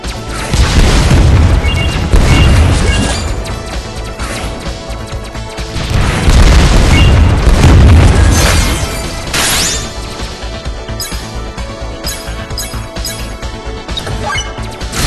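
Frozen rocket explosions in the video game Winwings, with loud booming crashes in two heavy bursts and then lighter impacts over a busy game soundtrack.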